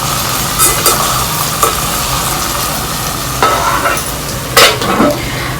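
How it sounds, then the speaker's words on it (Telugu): Onions soften in a pan over low heat, with a continuous loud sizzle broken by several scraping spoon strokes as they are stirred. "ఆనియన్స్ అయితే మగ్గిపోయినాయి చూసారు కదా, మెత్తగా మగ్గాలి"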